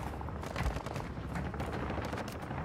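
Gunfire from the video game Warzone 2, a steady dense rattle of shots throughout with one heavier boom near the start, loud and close in a busy firefight.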